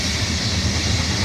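BNSF SD70ACE and ES44AC locomotives lead a coal train through Lawrence, Kansas, a loud steady rumble and rushing hiss of rolling cars filling the air close by.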